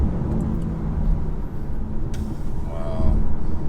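A 280 bhp Alfa Romeo Tonale PHEV Q4 plug-in hybrid accelerates in third gear on the road, giving a steady engine and road rumble throughout with voices talking over it.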